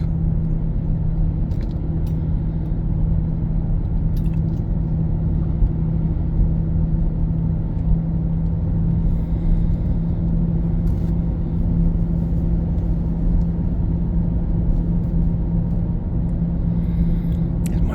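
Car cruising at over 60 mph, heard from inside as a constant deep road rumble and steady engine drone, even and unbroken throughout with no talk.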